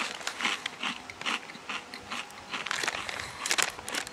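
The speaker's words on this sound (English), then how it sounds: "So I just got that crazy crunch of kettle cooked chips." Crisp, irregular crunching from kettle cooked Lay's potato chips being bitten and chewed close up, a quick series of bright crackly bursts with no voice over them.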